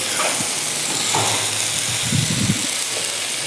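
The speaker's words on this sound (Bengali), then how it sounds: "এই যে আমাদের বাঙালি ভাই রান্না করছে আয়লা মাছ ও আয়লা মাছ রান্না করছে" Ayla fish sizzling in a pan, a steady hiss of frying oil with soft bubbling and occasional crackles, close and continuous.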